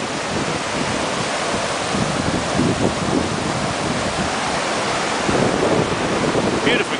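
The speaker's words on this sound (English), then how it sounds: "Beautiful glacier water, running all the way down, and the base of the falls" A glacier-fed waterfall rushing down to its base, a loud continuous roar of falling water with wind buffeting the microphone, heard up close outdoors.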